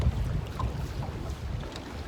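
Steady wind rushing and buffeting over water while fishing from a boat in cold, rough weather, a continuous low roar with gusts and faint lapping, no voices.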